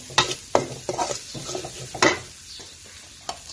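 Field rat stir-fried spicy in a pan: sizzling under repeated scraping, clattering strokes of a utensil, close and moderately loud, no talking.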